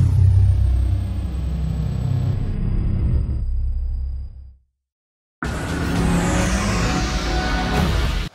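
A McLaren engine on a dyno revs hard, then winds down to near silence for about a second before roaring back up with a loud, broad howl that holds to the end.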